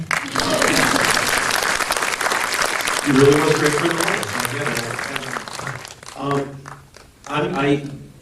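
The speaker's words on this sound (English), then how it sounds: "You can clap." Crowd at a film Q&A for Cesar Chavez claps loudly for several seconds, then the applause thins as someone speaks over the last of it.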